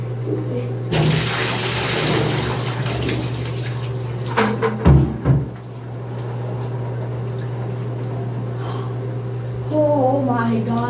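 Water pours and splashes in a steady rush, punctuated by a couple of clunks midway, over a constant low hum from a pump or appliance, with a person talking briefly near the end.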